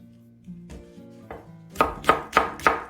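An onion cut with a knife into 2 cm pieces on a board, a few soft early cuts followed by four sharp, evenly spaced chops, close and clear.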